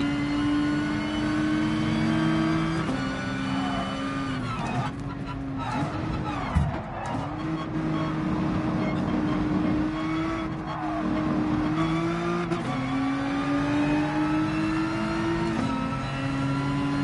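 Race car engine in Gran Turismo Sport revving and shifting through gears on track, a loud continuous whine with pitch rising and dropping, close and steady, with talk over it at times.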